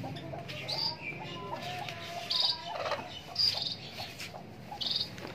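Desi chickens clucking and cooing in a backyard pen, soft intermittent calls over a steady bed of insect chirps, with a few short bright chirping bursts recurring at irregular intervals.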